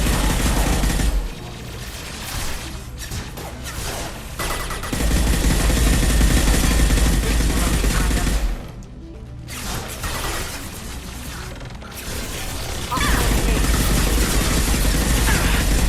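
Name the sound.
gunfire in video game Mass Effect 2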